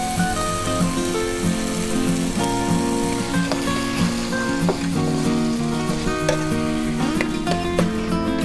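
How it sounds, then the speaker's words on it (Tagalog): Tomato sauce hitting a hot pan while cooking callos con garbanzos, a loud, steady, crackling sizzle that goes on throughout with scattered pops and a faint tonal hum underneath. "Maglalagay ako ng konting tomato sauce."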